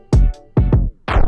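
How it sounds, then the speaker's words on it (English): A record stop effect on a beat, with three heavy thumping hits; the last one slows and drops in pitch as it trails off, loud and close. "let's say I wanted the record stop to take these 2 beats long"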